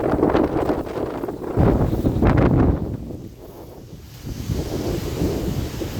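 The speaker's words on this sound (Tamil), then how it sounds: "செம்ம காற்று." Strong gusts during heavy rain in Chennai batter the microphone in loud, rumbling waves that rise and ease, with no voices.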